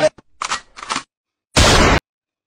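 A few short scattered sounds, then one loud, harsh blast of noise that lasts about half a second before cutting to silence.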